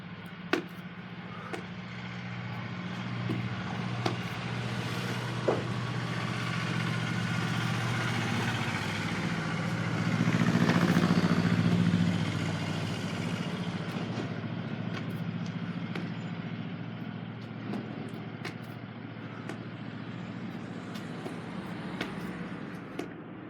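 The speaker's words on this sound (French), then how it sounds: "désolé pour les bruits de tracteurs, de voitures, on est à la campagne" Tractors and cars on a countryside road give a faint, low engine hum that lasts throughout, swelling briefly as one vehicle passes nearby, with a few soft knocks close by.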